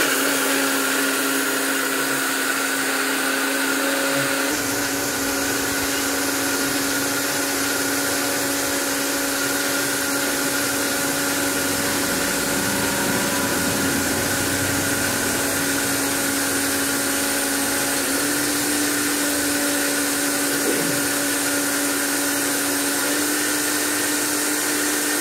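A blender runs steadily, whirring loud and continuous as it mixes a jackfruit seed shake with milk and sugar, its motor pitch shifting slightly partway through without stopping.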